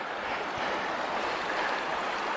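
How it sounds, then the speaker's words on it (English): A small mountain creek runs through a wildflower meadow in a high canyon, giving a steady, close, broadband rush of flowing water that stays even for the whole stretch, with no voices. "Got a little creek running by."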